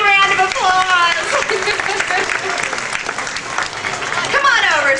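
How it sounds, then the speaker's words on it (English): An audience at the Spirit of the Tiger show at Six Flags Great Adventure applauds in a dense, sustained burst of clapping, while a voice talks and calls out loudly over it. "Let's give Scott a big round of applause."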